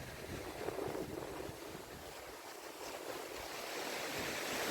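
Flood water pouring over the barrage of the Kinnerasani reservoir project in Khammam during heavy inflow, a dense, continuous roar of rushing water that holds steady and swells slightly toward the end, with no voices.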